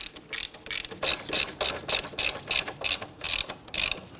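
A hand ratchet snugs down wheel hub bolts on a 2011-2015 Kia Sorento during a front wheel bearing and hub replacement, giving a close, loud run of rapid ratcheting clicks in steady bursts with no talking.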